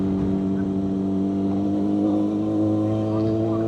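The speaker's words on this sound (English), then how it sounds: "Some tractors." Tractor engines on an old, abandoned-looking rural road in Ireland give a steady, loud low diesel drone with a harmonic hum that holds through the whole stretch, with a faint voice mixed in.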